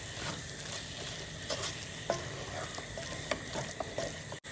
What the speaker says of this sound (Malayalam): അതുപോലെ തന്നെ ഗ്രീൻ ചില്ലി എടുത്തില്ലേ, ഇതെല്ലാം മിക്സ് ചെയ്യാം. മിക്സ് ചെയ്ത് കൊടുക്കാം.